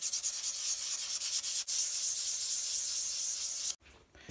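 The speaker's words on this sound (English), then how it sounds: "just hand sanding." Close, loud hand sanding of a turned natural-edge wooden goblet with 320 and 400 grit sandpaper, a steady rhythmic scratchy rubbing that stops abruptly near the end.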